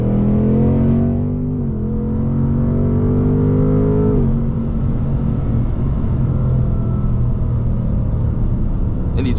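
A 2024 Ford Mustang GT Premium is driven through turns. Its loud, close engine note climbs in pitch, drops at two shifts, then settles into a steady rumble with no talking.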